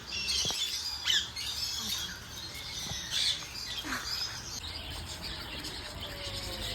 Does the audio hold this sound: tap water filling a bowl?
no